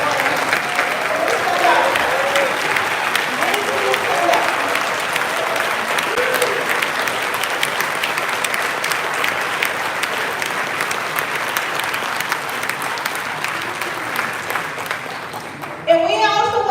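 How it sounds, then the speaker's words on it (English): Sustained applause fills a cathedral as the congregation honours the priests present, a dense steady wash of clapping for the whole stretch while a voice speaks briefly over it. "So I would like for all the priests that are here to stand up and we give them a round of applause"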